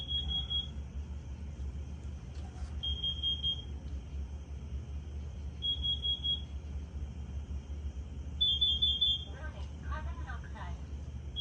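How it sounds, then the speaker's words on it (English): A carbon monoxide alarm under test sounds in short high beeping bursts spaced a few seconds apart, over a steady low hum, with a brief clatter of other noise near the end. "As you just heard, it's still an alarm."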